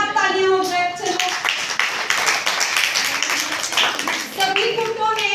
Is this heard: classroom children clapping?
yes